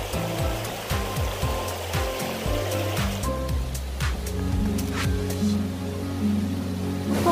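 Mountain stream water rushes through Gyeongban valley in Gapyeong near a waterfall, a continuous broadband wash with some sharp clattering knocks and tonal sweeps layered over it.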